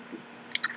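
A hard, lemony American candy being bitten, giving a faint soft chew and then two quick, close crunches at the end of a short, quiet moment.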